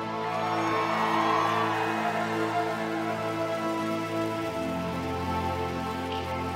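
Rain falls steadily at an outdoor music festival in Glasgow, a dense hiss over a loud, sustained crowd and amplified music, with a low drone underneath.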